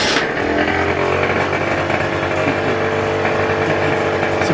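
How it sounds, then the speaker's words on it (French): A small MBK X Limit 50cc motorbike engine runs nearby with a steady buzzing drone and a rough, high-pitched two-stroke rasp, continuous and fairly loud for several seconds. "Il a plus de scooter, il a une moto maintenant, une 50."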